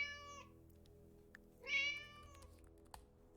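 A cat in a video game meows twice, both clear and drawn out, the second louder, over a quiet background with faint tapping.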